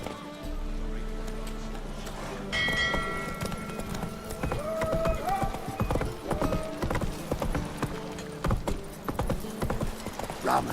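Roach, the horse in The Witcher 3, gallops along with rapid, steady hoofbeats that grow louder partway through. Brief game sounds and faint voices sit in the background.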